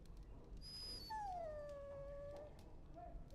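A dog in the video game Dragon Age: Origins lets out a high, drawn-out whimpering whine that slides downward, preceded by a brief higher squeak, faint and alone over quiet background hum.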